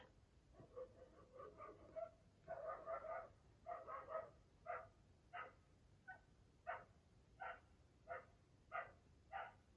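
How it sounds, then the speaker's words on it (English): An unhappy dog barks repeatedly outside, a steady series of sharp barks at a moderate distance, with a few whiny yelps early on and no one speaking. "very unhappy dog outside"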